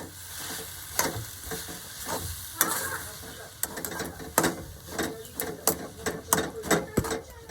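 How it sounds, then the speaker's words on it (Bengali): A spoon stirs mashed boiled potatoes into a sizzling pan mixture, scraping and knocking in irregular clattering strokes over a low frying hiss, close and fairly loud. "সেই আলু দুটোকে এর মধ্যে দিয়ে খুব ভালোভাবে মিশিয়ে নেবো"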